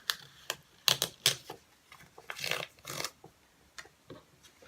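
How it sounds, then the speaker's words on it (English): Foundation paper being ripped away from small sewn stitches on a quilt block, heard as a series of sharp close tearing and snapping bursts, irregularly spaced, with no speech. "rip the paper away from the stitches"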